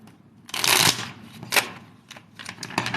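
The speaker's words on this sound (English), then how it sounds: "let me shuffle these babies" A deck of tarot cards is shuffled by hand up close, giving several short papery riffling bursts with pauses between them.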